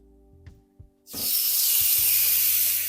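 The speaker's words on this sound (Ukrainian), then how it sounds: "Обсмажуємо, даємо чисто таку шкаринку гриля." Turkey fillet hits a hot grill pan and bursts into a loud, steady sizzle that holds for about two seconds, after a few soft clicks and a faint hum.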